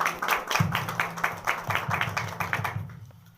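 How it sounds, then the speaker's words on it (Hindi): A seated audience at an RCM business seminar in India claps in a quick, uneven patter, with individual hand claps distinct and fairly close, fading out after about three seconds. "सर लोगों के लिए जबरदस्त ताली चाहूंगा मैं"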